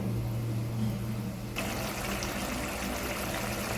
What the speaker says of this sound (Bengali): পরিমাণ মতো একটু জল দিয়ে দিচ্ছি